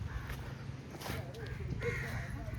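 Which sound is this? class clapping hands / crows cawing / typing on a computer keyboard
crows cawing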